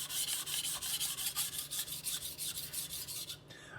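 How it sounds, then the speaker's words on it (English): Kitchen knife drawn evenly back and forth across a whetstone, giving a steady, quick series of close, gritty rasping strokes that stop just before the end. "I'm just going to evenly and carefully go back and forth on my stone"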